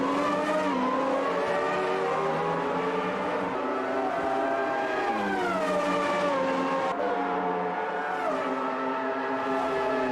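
Formula One cars, a Williams and a McLaren Honda, race at Interlagos in the game Automobilista 2, their high-pitched engines screaming continuously and shifting pitch as they accelerate down the straight, with brief tire squeal.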